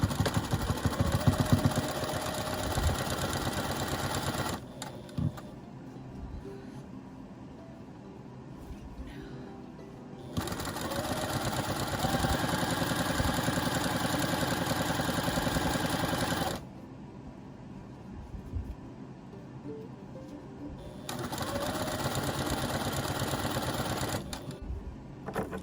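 A sewing machine double-stitches a large shopping bag in three steady motor-driven bursts, each several seconds long, separated by quieter pauses with handling sounds.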